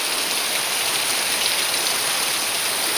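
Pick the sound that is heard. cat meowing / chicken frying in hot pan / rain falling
rain falling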